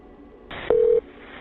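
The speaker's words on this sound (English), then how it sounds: "He dialed 911" A telephone keypad sounds a single short touch tone after the receiver clicks up, heard close and clear over a quiet line hiss as a 911 call is dialed.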